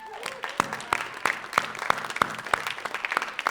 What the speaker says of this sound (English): Also, our tech crew, round of applause for them.